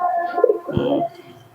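A pair of Giribaz flying pigeons gives a close, throaty coo in two rolling phrases, ending in quieter background noise.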